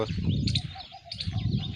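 Birds chirp and coo across a rainy village farm in Gujarat, continuous and fairly close, blended with a steady low rumble and no voices.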